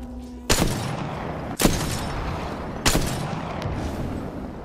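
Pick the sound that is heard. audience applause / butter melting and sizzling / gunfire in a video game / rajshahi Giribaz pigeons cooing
gunfire in a video game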